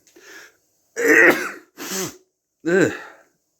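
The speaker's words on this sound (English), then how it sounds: "achoo, achoo, achoo, achoo, achoo" A person sneezes four times in a row, sharp explosive bursts close to the microphone, with brief silences between them.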